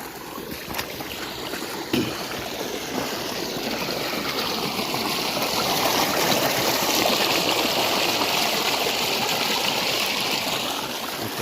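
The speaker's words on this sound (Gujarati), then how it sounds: "જોજો પાણી કેવું જબરજસ્ત પડે છે" Irrigation water gushing strongly through a farm field, a loud, continuous rushing flow heard close by for the whole stretch with no voices.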